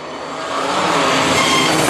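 A Jeep Renegade's engine revs hard as it accelerates on a street beside a cemetery, a steady, rising broadband roar that swells over two seconds with no talk.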